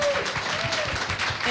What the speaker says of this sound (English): we will need to do another big round of applause to all of you